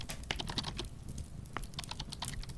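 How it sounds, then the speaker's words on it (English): Brisk typing on a computer keyboard, a steady patter of close, soft key clicks with brief pauses, heard alone without speech. "You've just been typing and typing and typing."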